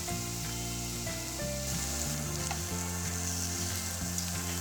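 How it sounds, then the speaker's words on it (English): Shrimp pan-fry in a hot pan for a garlic shrimp dish, giving a steady, close, dense sizzle and crackle with occasional stirring, with no voices over it. "Now for the shrimp. Pan fry them for about 2 minutes on each side."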